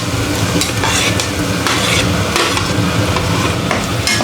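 Onion is tipped into hot oil with garlic and ginger, giving a loud close sizzle broken by repeated scraping stirs of a spoon against the pan, with no voices.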